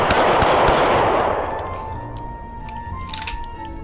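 Gunfire in the VR shooter Blood Trail opens with a loud, dense automatic burst that fades into a ringing tail and quieter scattered shots under a low game rumble.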